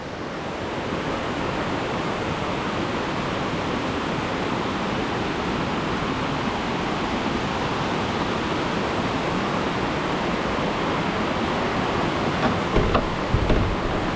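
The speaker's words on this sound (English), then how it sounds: "Makes the waterfalls even more impressive." Waterfalls at the Mlinčići watermills in Jajce roar in a steady, dense rush of white noise, constant and loud throughout with no voices.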